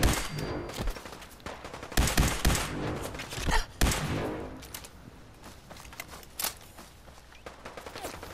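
Gunfire in the video game Fallout 4: several sharp, loud shots in bursts near the start and middle, then scattered quieter reports over a steady game background.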